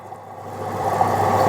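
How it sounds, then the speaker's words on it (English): Resin-coated matrix opal ground on a 150 grit wheel, giving a steady mid-range whirring grind that swells gradually louder over a second and a half, with no talking. "It's a resin, so it's not like it takes much to grind it."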